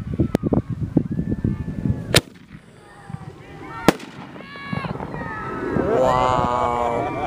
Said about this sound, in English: warlock shells.